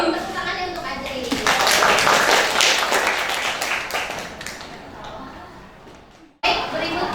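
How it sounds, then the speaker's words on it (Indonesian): A class of students claps together after a lesson, a burst of close, crisp hand clapping that swells quickly then fades away over several seconds, with a short break of silence before sound resumes near the end. "Tepuk tangannya untuk ajar ini."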